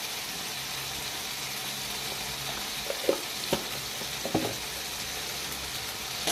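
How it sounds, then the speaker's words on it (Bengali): Ginger paste and poppy seed paste frying in a little oil in a pan for a ridge gourd dish, a steady soft sizzle with a few brief stirring knocks partway through. "আদা বাটা আর পোস্ত বাটাটাকে খুব সুন্দর করে আবার কষে নেব"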